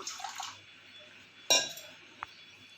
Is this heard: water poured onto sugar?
yes